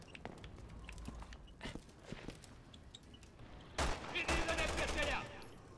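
Gunfire in the video game Resident Evil 6: a quick cluster of shots, faint and muffled, over a low steady game background.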